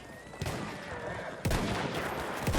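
Bursts of gunfire in the Battlefield 1 video game, three sharp shots ringing out over a continuous background din of battle, with no talking.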